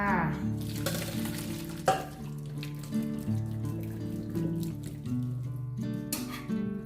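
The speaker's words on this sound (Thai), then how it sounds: "น้ำทิ้งค่ะ เทใส่ตะแกรงเลยค่ะ" Boiled mushrooms and their cooking water poured from a pot into a strainer, with watery splashing and trickling plus light metallic clinks in a kitchen.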